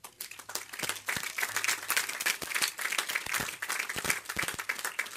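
An audience at a 2015 community college commencement ceremony applauds the stage and teachers, a crowd of hands clapping continuously with scattered sharper individual claps, moderately loud and reverberant for about five seconds.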